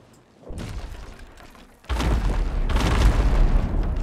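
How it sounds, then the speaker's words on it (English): A gunpowder keg explodes aboard a ship in the pirate video game Sea of Thieves: a soft thud first, then a loud, deep booming blast that rumbles on to the end, with no voices. "Okay, I'm just gonna blow a keg."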